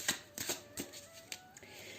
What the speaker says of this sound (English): So I'm going to shuffle and pick 3 cards from this deck.